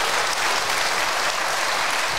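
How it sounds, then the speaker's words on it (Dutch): Full, dense applause from a crowd at a charity benefit evening, directed at football club volunteers; continuous clapping with no pauses across the whole short stretch. "Dus geef ze even een groot applaus."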